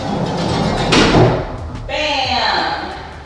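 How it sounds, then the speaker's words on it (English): A soft-close barn door in a utility room slides along its track, rumbling closer and then catching with a damped thud before a softer rolling settle; a voice speaks over it. "it's kind of like a soft closed barn door"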